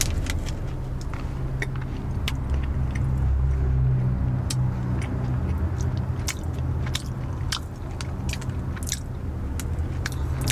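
Close-up chewing of bread with soft crunchy bites repeating irregularly, heard over a steady low rumble of a Kia EV6 interior while driving in Seoul traffic.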